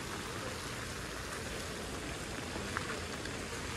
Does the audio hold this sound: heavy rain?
yes